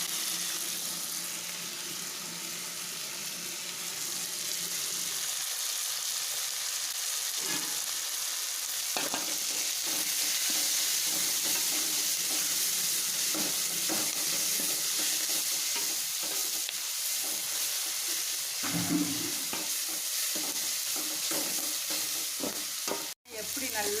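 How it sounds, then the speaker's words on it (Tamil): Onion, tomato, crushed garlic and curry leaves sauté in a pan for a Tamil fish curry, a soft continuous sizzle with repeated scraping stirs and clinks, fairly quiet and close, ending in a sharp knock. "தக்காளி வெங்காயம் எல்லாமே நல்லா வதங்கிருக்கு பூண்டு எல்லாம் நல்லா வதங்கணும்"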